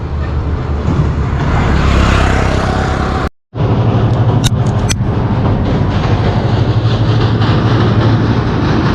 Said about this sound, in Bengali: ঘোরাশাল ব্রিজে ট্রেন উঠতেছে